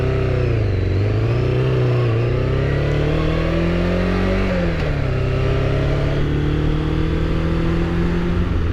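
A Suzuki Katana motorcycle ridden at night under a bridge, its engine droning loud and close throughout, pitch rising and falling as the rider shifts and accelerates.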